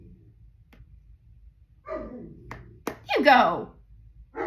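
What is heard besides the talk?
dog barking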